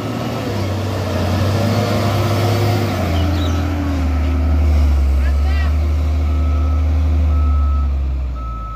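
A heavy single-axle engkel truck labours up a steep rocky Batu Jomba track, its engine a loud sustained low drone that rises in pitch as it climbs, with faint voices in the background.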